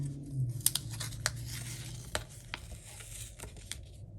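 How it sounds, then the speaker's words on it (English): A stamped paper piece being peeled up in papercraft gives close tearing and crinkling sounds, with several sharp, brief crackles over a quiet background hum. "Let me see if I can peel that up"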